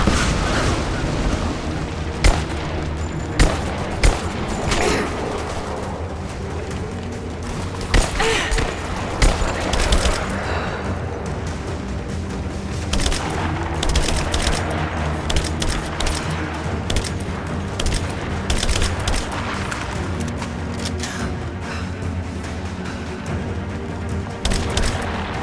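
Dense gunfire and booming blasts fill a combat scene in Rise of the Tomb Raider's Baba Yaga DLC, with repeated sharp shots over a constant rumbling battle bed, and voices briefly heard.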